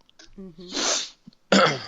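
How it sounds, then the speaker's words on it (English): A person sneezes twice in quick succession, two loud breathy bursts with a short pause between, after a brief murmured voice at the start. "I start sneezing and hacking"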